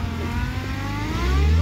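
A Maruti Swift revs hard while stuck off-road, its engine droning steadily close by and climbing in pitch and loudness toward the end, with no voices over it.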